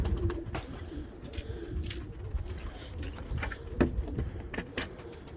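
Pigeons cooing steadily in a loft, soft repeated coos alongside wing flutters and light rustling, fairly close with no talk.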